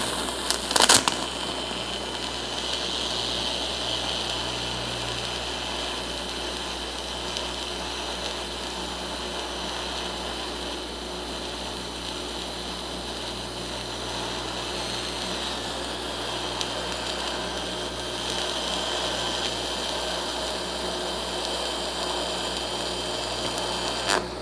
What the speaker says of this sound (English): I'll tack it into place a little bit with the TIG welder, and then I will move on and we'll MIG it